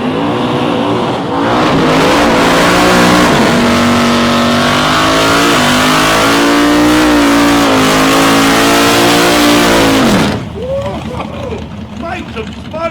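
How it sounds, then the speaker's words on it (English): Drag race cars doing burnouts at a street drags event, a loud roaring engine with rising and holding revs for about ten seconds before cutting back, then a commentator talks over the crowd. "Couple of good burnouts there for these guys"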